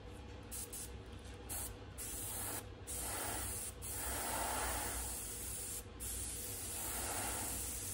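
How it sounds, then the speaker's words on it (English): A spray can hisses in long continuous bursts with brief pauses between, close and steady, like paint being misted across a surface. "Spray it out again before you start."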